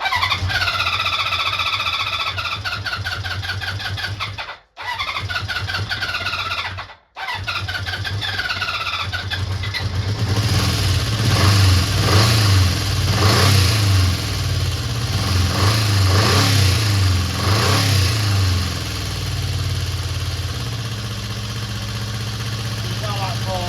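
A Honda CB400 Four motorcycle engine cranks, stutters and catches, then runs and revs in repeated surges before settling toward a steadier idle, loud and close.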